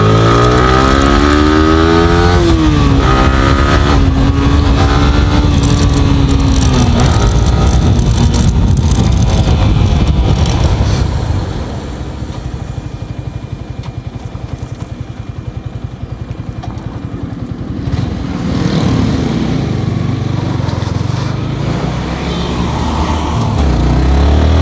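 A Yamaha R15 V3 motorcycle revs hard and accelerates away, its loud engine note climbing through rising pitch sweeps before dropping to a quieter drone as it pulls off, then swelling again; no talk is heard.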